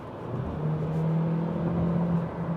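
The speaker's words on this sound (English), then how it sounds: "we can give this engine a bit of a send" A 2026 Hyundai Sonata Hybrid engine hums steadily from inside the cabin, its low drone rising gently in pitch as the car accelerates, with no talking.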